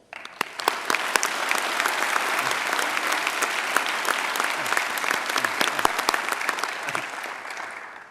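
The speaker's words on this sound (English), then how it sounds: "How about one more applause for him?" Sustained audience applause at a police academy graduation ceremony, dense steady clapping from a large crowd lasting several seconds before tapering off at the end.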